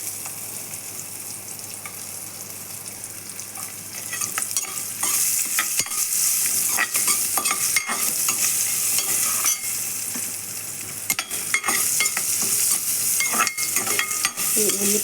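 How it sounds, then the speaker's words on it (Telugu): Onion pieces frying with turmeric in a pan, a constant close sizzle broken by repeated scraping and clattering as a spoon stirs, growing louder partway through, with no voices. "పసుపు వేగిన తర్వాత మనము ఉల్లిపాయ ముక్కలు వేసుకున్నాము."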